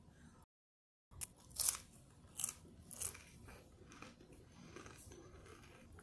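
Crackers are bitten and chewed close up, giving a few crisp crunches followed by softer chewing, with no talk.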